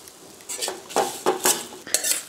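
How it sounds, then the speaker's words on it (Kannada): Spices frying in hot coconut oil for Mangalorean Malabar spinach masala pundi are stirred with a metal spoon, giving several sharp clinks and scrapes against the pan over a steady sizzle. "ಎಣ್ಣೆ ಬಿಸಿಯಾದ ಕೂಡಲೇ ಈ ಮಸಾಲೆಗಳನ್ನೆಲ್ಲವನ್ನು ಹಾಕಿಕೊಳ್ತೇನೆ ಒಟ್ಟಿಗೆ."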